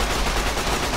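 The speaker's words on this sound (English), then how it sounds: "Let's use this gun here and." Gunfire from a gun in Fallout New Vegas, a dense, continuous loud barrage of rapid shots that fills the whole moment without a break.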